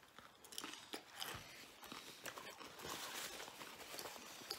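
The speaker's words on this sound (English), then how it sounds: "A lot of chewing." Someone chewing Jack in the Box tacos close to the mic, with irregular crunchy bites and wet mastication sounds repeating throughout, fairly quiet and with no talking.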